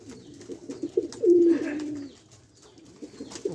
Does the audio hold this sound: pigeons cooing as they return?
yes